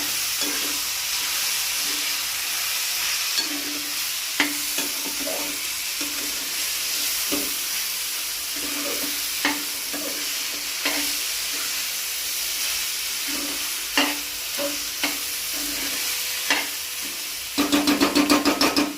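Cauliflower curry frying in oil in a pan, stirred with a spoon that scrapes and knocks the pan in a loose, repeated rhythm over a constant loud sizzle.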